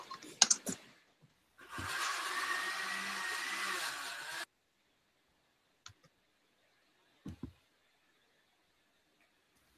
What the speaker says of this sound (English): my daughter's running the blender in the kitchen